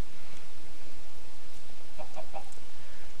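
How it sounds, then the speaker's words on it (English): Chickens in a Minecraft Colony Craft modpack give three quick, soft clucks in a row, set against a steady bed of game noise. "Goddamn chickens trying to escape all the time."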